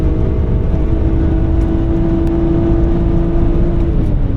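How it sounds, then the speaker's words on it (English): A BMW E46 M3 with 130,000 miles on the Nürburgring holds a steady, loud, droning engine note at high revs, continuous and without a break, heard from inside the car. "Just gonna upshift and not overstress the engine too much."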